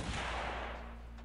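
A single sharp gunshot rings out in the video game Piratez, one loud broadband burst that decays quickly.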